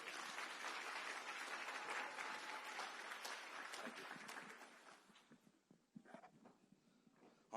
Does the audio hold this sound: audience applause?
yes